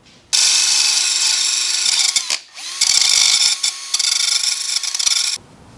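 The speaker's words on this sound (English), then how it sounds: "I always grind down one of the rivet heads so that it's easier to press through" A power grinder bears down on a motorcycle chain rivet head on a Yamaha R1, a loud, close, high-pitched grinding whine that pauses briefly in the middle and then resumes until it stops.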